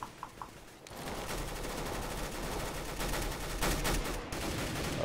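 Rapid automatic gunfire from a gun in Counter-Strike: Global Offensive, a dense sustained burst of shots at moderate level after a few faint isolated pops, with no talking.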